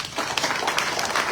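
Crowd applause at a gathering of village chiefs and community leaders, a steady, fairly loud patter of many hands clapping together.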